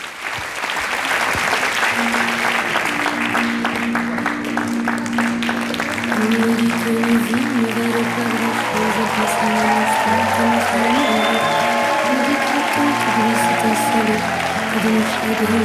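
An audience claps for a performer's stage entrance over punchy music, sustained loud applause throughout with a brief fade-in at the start.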